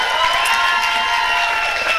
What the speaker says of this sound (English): a round of applause for our star tonight